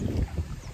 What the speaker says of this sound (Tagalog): Tsaka malamig, mahangin.